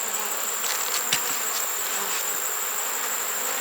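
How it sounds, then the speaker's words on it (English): Honey bees hum in a dense, steady buzz from a beehive being checked for feed consumption before winter, with a few individual bees flying close past. The buzzing is continuous and fairly loud, with no voices. "A lot of bees."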